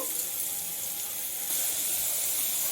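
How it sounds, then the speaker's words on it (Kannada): Half a glass of water poured into a pressure cooker of beetroot being cooked for palya, a steady close splashing hiss that grows slightly louder midway, with no talking. "ಲೋಟ ನೀರು, ಜಾಸ್ತಿ ಬೇಡ, ಒಂದು ಅರ್ಧ ಲೋಟ."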